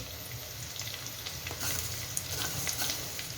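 Garlic and cumin seeds sizzle in hot oil while tempering for a mixed vegetable dish, a close crackling hiss with scattered spits and pops that grows slightly louder partway through.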